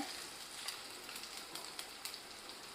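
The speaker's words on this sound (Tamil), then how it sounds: "அரை கைப்பிடி வெங்காயம் இதை சேர்த்து வதக்குறோம்" Chopped onions sauté in a pan for a Madurai-style chicken curry, giving a soft, steady sizzle with scattered small crackles and pops, quiet and close, with no voices.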